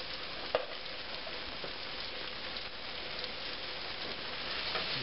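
Poultry gravy mix being stirred into a hot pan from cooking pork chops gives a steady, close sizzle with scraping and stirring throughout, one brief tap near the start, and no voices.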